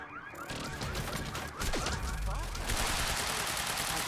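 Rapid automatic gunfire from a firefight in Quantum Break rattles loud and continuous, layered with chaotic game effects and rising sweeps, with a voice faintly mixed in.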